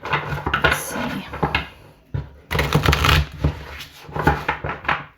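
Oracle cards are shuffled by hand in quick bursts of riffling and soft slapping, close and crisp, with a brief pause midway before the shuffling resumes.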